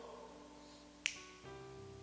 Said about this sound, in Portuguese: No estalar de dedos.